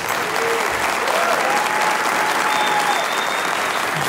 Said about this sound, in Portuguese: Gostaria de pedir uma salva de palmas